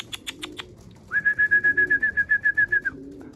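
Young pigeons released outside near a rooftop coo in a rhythmic series of soft pulsing notes after a few faint opening calls, close by and fairly quiet, with no talk.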